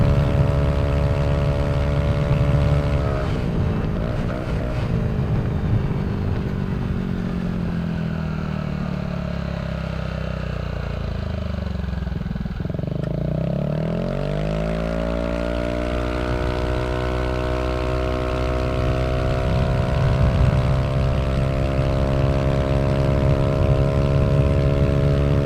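A motorcycle fitted with a Villan SR1 exhaust revs high near 7000 to 8000 RPM, its loud, steady drone dipping as the throttle drops, then climbing back up in a long sustained pull, close and alone.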